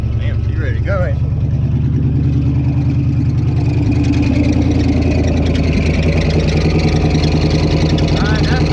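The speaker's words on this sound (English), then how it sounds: "that's the bad alternator sound right there" 1977 Chevy Squarebody engine idling with a failing alternator, a steady rumbling idle overlaid with a thin high squeal, close and loud, with a voice talking over it at times.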